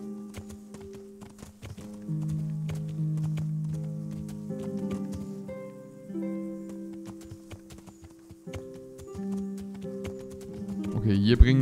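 Horse hooves clip-clop in a steady galloping rhythm in the medieval video game Kingdom Come: Deliverance, accompanied by soft game music tones, with someone talking over it.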